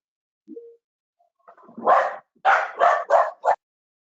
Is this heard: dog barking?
yes